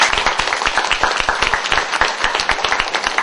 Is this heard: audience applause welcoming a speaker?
yes